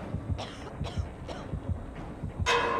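Repeated coughing from a character in the video game Dead by Daylight, in quick bursts, several dry hacks in a rough rhythm, moderately close, ending with a louder hissing burst.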